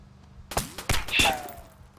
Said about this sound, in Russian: Стрельба.